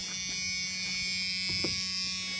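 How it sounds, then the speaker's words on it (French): A steady electric doorbell buzz drones continuously at close range, unbroken for its whole length, in a 1986 Chevrolet G20 van. "Donc ça, c'est juste la sonnette."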